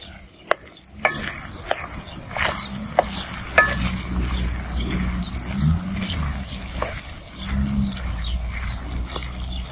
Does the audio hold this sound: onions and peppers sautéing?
yes